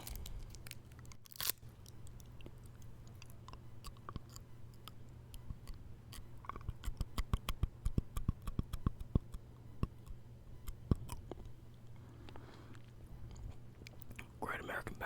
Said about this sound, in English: I'm chewing on hard candy.